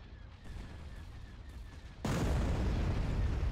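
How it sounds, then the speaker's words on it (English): Hypervelocity cannon firing in the Star Wars strategy game Empire at War, a sudden heavy blast that floods the scene with loud, sustained rumble and noise after a quieter stretch of battle ambience. "Hypervelocity cannon firing."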